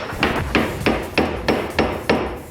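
A hammer strikes silver on a mandrel in a steady rhythm, seven sharp ringing blows evenly spaced, close and loud with no talking.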